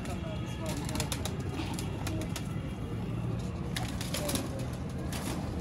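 Pigeons in a breeding setup coo softly in a steady, low murmur, with faint scattered chirps over a continuous background hum and no speech.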